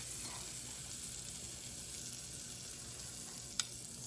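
Keto waffle batter with mozzarella cooking on a waffle maker gives a steady, quiet sizzle throughout, with one brief sharp click near the end.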